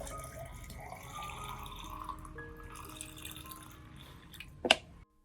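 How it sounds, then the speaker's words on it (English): Liquid orchid fertilizer is poured from a container onto orchid roots, a soft steady trickle of water with faint drips, ending in a brief louder splash before it stops. "Water the liquid fertilizer directly onto the orchid roots."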